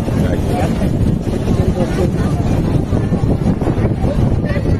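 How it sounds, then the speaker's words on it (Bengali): Sea waves at Puri beach roar continuously and loudly, mixed with heavy wind buffeting the microphone during high tide, with people bathing nearby. "ঢেউগুলো সব আজকে আজকে উঠছে।"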